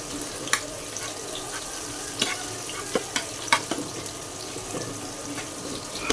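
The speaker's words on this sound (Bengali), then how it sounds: "আমি একটি ফ্রাই প্যান বসিয়ে দিয়েছি তো সামান্য পরিমাণে তেল দিয়ে একটা শুকনো মরিচ দিয়েছি" A single dried red chili frying in a little oil in a frying pan gives a low, steady sizzle, broken by scattered sharp pops and clicks.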